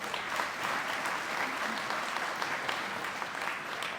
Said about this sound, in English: One more round of applause, please, for our PIPA principals